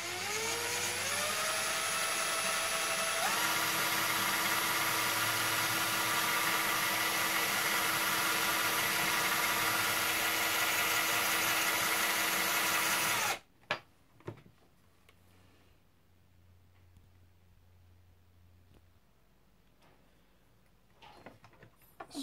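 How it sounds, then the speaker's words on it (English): A 9/32 drill boring a hole for a cable runs loud and steady with a rising whine for about thirteen seconds, then stops abruptly, followed by faint clicks and handling noises. "So I'm just going to drill a hole for the cable to go through"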